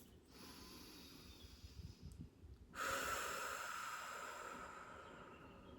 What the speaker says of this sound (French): prenez une grande inspiration et soufflez profondément